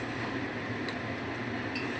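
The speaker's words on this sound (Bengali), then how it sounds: "টমেটো কুচি দিয়ে এবার নেড়ে" Chopped tomato being stirred into chicken in a cooking pan, soft scraping with a few faint utensil clinks against the pan over a steady background hiss, no talking.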